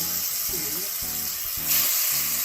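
Seasoned bone-in, skinned chicken thighs browning in a pan give a steady hiss and sizzle, with a faint pulsing hum beneath and a brief louder spit of spatter near the end.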